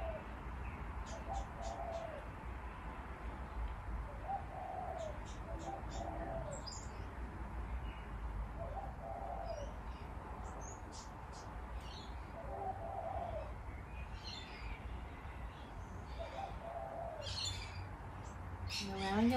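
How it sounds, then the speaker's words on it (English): Birds chirp and coo repeatedly outdoors, small bursts of tweets scattered over a steady background of low rumbling noise. "Noticing the birds chirping away."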